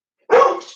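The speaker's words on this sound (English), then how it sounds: "oh, freaked out my dog." A single sharp, loud bark from a startled dog close by, one short burst that trails off quickly, alone without talk.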